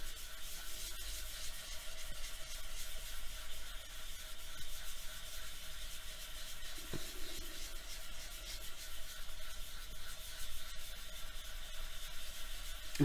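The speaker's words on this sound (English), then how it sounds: "I'm just going to use this card. And I'm just going to start burnishing this." A card burnishes a veneer-style mokume gane metal sheet for a pendant, giving a soft, continuous close rubbing hiss with steady texture and no talking.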